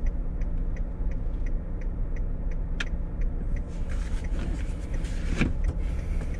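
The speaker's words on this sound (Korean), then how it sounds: "노란 차 따라 들어가기 위해서 깜빡이 왼쪽 넣어주시고요" Steady, evenly spaced ticking of a car's left turn signal, heard inside the car during a beginner's driving lesson while turning into a building parking lot, set against a constant low engine and road hum.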